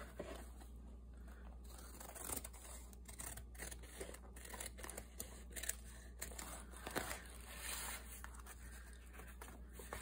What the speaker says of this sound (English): I'm going to trim the cover.